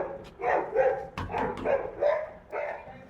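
A dog barks repeatedly in short bursts, fairly close and moderately loud, with a few yips mixed in, in a domestic setting.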